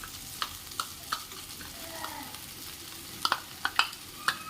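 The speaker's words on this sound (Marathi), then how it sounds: "दही फटायला नको म्हणून आपण एकसारखं त्याला मिक्स करून घेऊया" Yogurt being stirred into a fresh turmeric curry in a pan, a soft sizzle underneath with intermittent spoon scrapes and taps against the pan, close and without talk.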